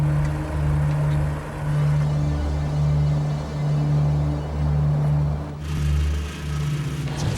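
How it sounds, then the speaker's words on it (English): A tractor clearing an overgrown grass field, its engine a steady low rumble with slow periodic surges, loud and continuous throughout. "Tractors have been brought in to clear the overgrown area."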